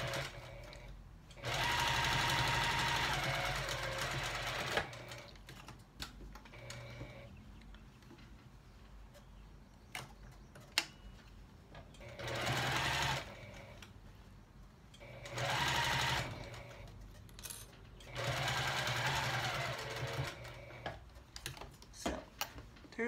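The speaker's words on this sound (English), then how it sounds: "I'm going to come up to that seam and start sewing right from that seam" A sewing machine stitches the seam of a fabric bowl cozy in three long whirring runs, separated by quiet pauses with small clicks and handling, heard up close without speech.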